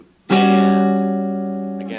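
A single rhythm guitar chord is struck once and rings out clearly, sustaining and slowly fading, with a faint extra strum or pick noise near the end.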